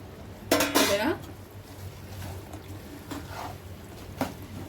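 Chicken pieces for a pickle are tossed in a pan on a low flame, giving clattering scrapes of a utensil against metal over a soft background hiss, with a few lighter knocks afterward.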